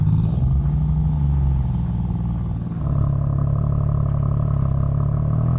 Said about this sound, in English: this is actually what it sounds like. So this is a 3-cylinder motor